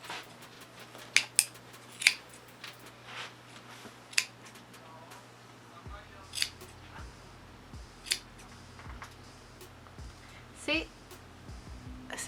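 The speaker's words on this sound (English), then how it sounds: "now here I'm going to take the scissor" Scissors snip pom pom yarn with scattered sharp clicks and cuts over a steady background hum; a voice speaks now and then, while making rose gold pom pom earrings.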